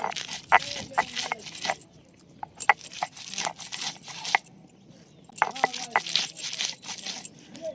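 Chillies with coarse rock salt crushed on a traditional stone grinder, with bursts of gritty scraping and pounding strokes up close, separated by brief pauses.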